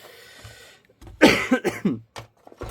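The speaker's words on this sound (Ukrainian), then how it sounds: "перепрошую, буду покашлювати" A person who is still ill coughs several times in quick succession while repairing a power inverter, with harsh, loud bursts close to the mic and short gaps between them.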